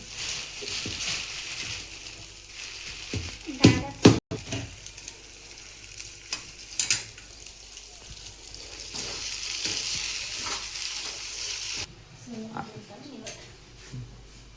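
Sheera being roasted in ghee in a pan, stirred with a spoon, for a Mahashivratri prasad: a steady close sizzle with scraping and clinks of metal while people talk nearby.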